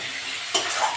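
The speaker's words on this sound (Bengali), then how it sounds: "নেড়ে চেড়ে নেব।" Pointed gourd (potol) stirred in a hot pan of oil with tomato, giving a steady close-up sizzle and a brief scrape of the spatula partway through.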